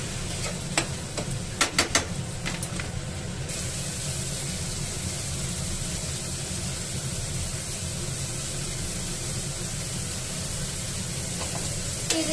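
Tomatoes cook down in a pan and are stirred, with several sharp utensil scrapes at the start and then a loud, steady hiss of sizzling that continues to the end.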